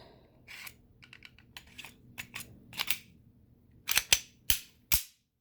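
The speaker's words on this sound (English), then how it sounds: "So the frame is done, and let's put the slide on there." Metal clicks and snaps as a slide is fitted onto a full-size Smith & Wesson M&P 1.0 9mm pistol frame after custom slide and frame work, soft clicks first, then several louder, sharper close-up snaps near the end.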